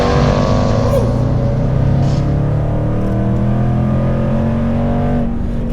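A Jaguar F-Pace SVR's loud, throaty exhaust roars continuously as the SUV accelerates, its deep drone rising steadily in pitch, close and dominant throughout.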